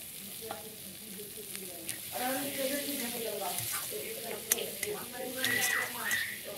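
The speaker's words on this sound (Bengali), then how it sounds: "তেলে পেঁয়াজটা দিয়ে দিলাম।" Onion dropped into hot oil already holding cardamom and bay leaves, sizzling steadily with stirring scrapes, close and moderately loud, while a voice and faint background sounds carry on alongside.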